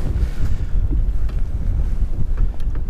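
Strong wind blows across open water during spring crappie fishing, buffeting the microphone with a constant low roar. Faint splashes and knocks sit beneath it, and no one speaks.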